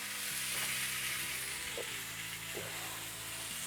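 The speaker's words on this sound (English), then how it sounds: "all you really want to do is sear each side of the chop" Pork chops sear in a hot cast iron skillet with a steady, loud sizzle that runs the whole time, broken by a couple of brief spatters or shifts of the meat.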